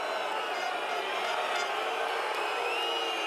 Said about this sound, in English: And the crowd clearly impatient